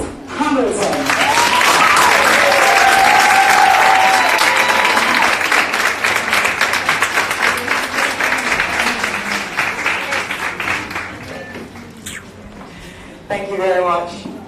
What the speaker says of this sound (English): give the greatest and the loudest applause